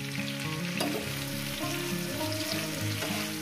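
Food seasoned with salt frying in a pan, with a steady, close sizzle and occasional stirring scrapes running throughout, and no talking.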